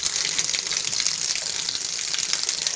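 Water gushes steadily from an opened tap on a water supply outlet, a continuous close, fairly loud hiss-like flow with no talking.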